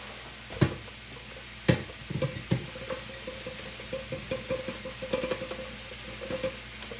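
Steak bites fry in a hot pan with a steady soft sizzle, punctuated by occasional light knocks and scrapes of a utensil against the pan, close and moderately quiet.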